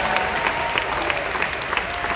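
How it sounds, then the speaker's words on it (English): Dense, steady applause from a large audience at the Disney's Hollywood Studios 35th anniversary ceremony, loud and continuous through the whole moment with no clear break. "Let's give them another round of applause."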